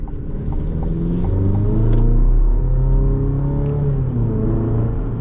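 A 2024 Chevy Colorado Z71 pickup with a four-cylinder engine accelerates steadily, its engine note rising through several gears in a continuous loud rumble heard from inside the cab, with no talking.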